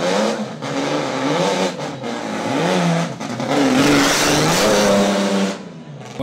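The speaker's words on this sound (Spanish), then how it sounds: "El rugir de los motores" Rally cars at a Formosa rally event roar past one after another, engines revving and accelerating loudly with rising and falling pitch sweeps, near and powerful, with little talk.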